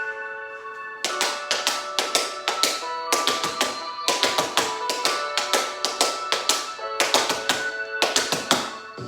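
Crisp tap shoe steps in quick rhythmic bursts, grouped into repeating phrases with short pauses, over a faint steady musical tone.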